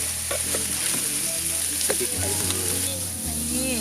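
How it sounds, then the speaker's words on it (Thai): Onions sizzle and fry in a pan for steak, a steady close crackle with stirring scrapes and a low hum beneath, at an outdoor camping spot. "ซื้อทำสเต็กครับ ใส่หอมใหญ่ลงไป"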